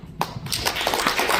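An audience at a lecture event welcomes the incoming speaker with applause. A couple of claps come first, then dense, close-up clapping swells and carries on steadily.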